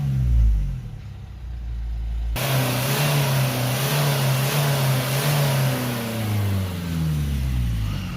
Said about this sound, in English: So when I press the rev, we'll let it idle back down, and now if I accelerate it straight up,